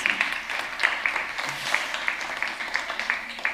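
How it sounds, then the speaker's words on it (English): Conference audience at a discovery stage session gives a brief round of applause, scattered clapping with a few sharper individual claps standing out over a moderate, steady wash. "Another round of applause, please"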